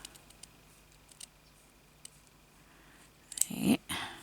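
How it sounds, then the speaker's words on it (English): Scissors snip through a piece of pink fabric during slow hand stitching, a few faint clicks followed by a short, close cutting burst near the end in a quiet room. "I'm going to just cut off a bit like so"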